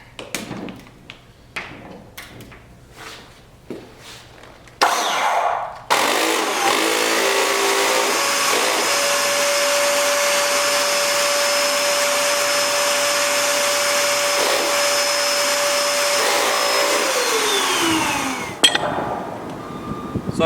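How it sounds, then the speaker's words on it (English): A Dyson vacuum cleaner, already damaged and missing parts, switches on after a few knocks and handling thumps, then runs with a loud, steady motor whine for about twelve seconds before winding down and cutting off. "So I'm gonna plug it in and see if it turns on."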